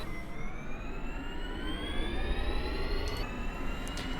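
A Formula E electric race car in Assetto Corsa pulls away, its motor giving a rising electric whine with steadily climbing tones over a dense, continuous rumble of road and drivetrain noise; no talking.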